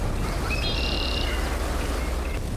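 Birds sing in woods: a brief high chirping trill, fairly faint, over steady broadband outdoor noise.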